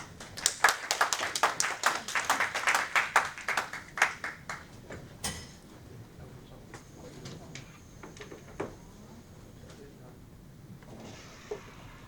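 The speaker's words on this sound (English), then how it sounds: "Clap your hands." Conference audience at a geothermal power plant workshop clapping to welcome a speaker, a burst of close, rapid hand claps that thins after a few seconds into scattered claps, with faint murmured voices underneath.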